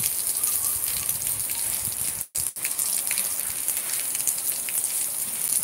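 Steady rain pours down at Ponta Gato, Tarrafal, on Santiago in Cape Verde, a dense hiss that drops out briefly in the middle before resuming at full strength.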